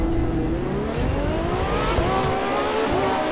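Racing car engines in The Crew 2 roar continuously at full throttle, their pitch climbing as the cars accelerate together, with a faint tire squeal riding over the steady, close drone.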